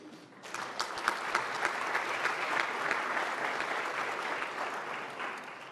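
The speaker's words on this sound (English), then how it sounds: "Hand of applause to the 3 panelists, please." An audience in a large conference chamber at a senior-level meeting applauds panelists, with dense, sustained clapping from many hands at a moderate distance for several seconds and no talking.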